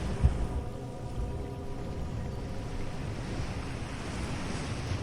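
Calm sea waves wash in a steady, soft hiss with faint wind noise, a gentle unbroken surf that stays low and even throughout with no voices.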